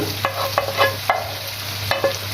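Mushrooms are added to a frying pan with chicken liver and stirred, giving a run of close scraping strokes and clatters over a low steady sizzle, with no voices.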